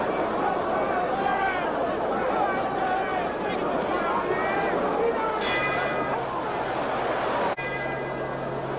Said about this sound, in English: The bell for round 4, Madison Square Garden, New York City.